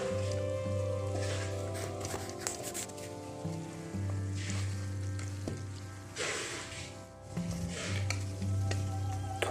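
Chicken karahi simmering with added spices in a pan, a dense continuous sizzle and bubbling with periodic stirring scrapes, loud and close throughout, no talking.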